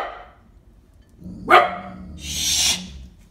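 Dogs bark outdoors at sunrise, a single sharp loud bark followed by a longer, noisier burst, with quiet gaps around them.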